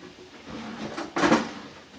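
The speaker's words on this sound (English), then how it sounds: "Wrong drawer." A kitchen drawer slides and knocks once, a fairly loud close-up clatter of wood and cutlery coming after a quiet stretch of low room noise and faint movement, with no talking.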